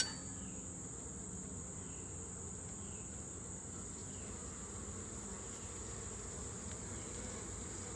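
Honey bees at a sparsely populated hive give a steady, low, continuous buzzing hum that stays even and moderately faint throughout, with no voices.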